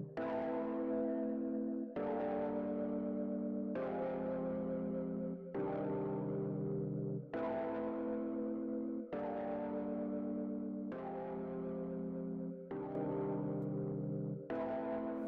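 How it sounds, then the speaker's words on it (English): A repeating synth chord passes through time-based effects in Ableton Live 10: flanging, chorus and delay. Eight evenly spaced sustained hits, each swirling and decaying, play loud and alone without talk. "You could do flanging, chorus, delay, any type of, you know, time-based effects in this thing."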